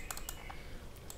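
Quick bursts of typing on a computer keyboard while entering a web address, a handful of sharp, close key clicks spaced irregularly over a quiet room hiss.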